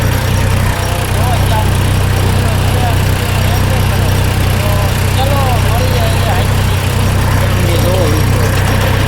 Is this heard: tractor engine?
yes